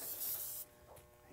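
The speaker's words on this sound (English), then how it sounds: "and I spray it down" A spray bottle spritzing liquid onto a TecBoard panel while a dye sublimation image is being applied, one short hissing burst lasting about half a second, then a quieter fading tail.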